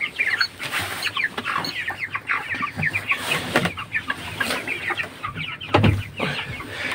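Broiler chickens about 27 days old cluck and chirp continuously in a farm shed. The calls are close and overlap, with no speech.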